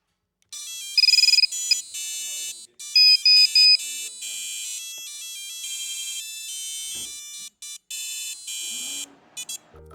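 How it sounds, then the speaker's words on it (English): A series of electronic beeping tones plays as a battery is plugged into an iFlight Nazgul DC5 Eco drone: short, loud, high-pitched melodic chirps followed by quieter sustained tonal buzzing with brief gaps. "you can replace the usual startup sounds with whatever tune you want"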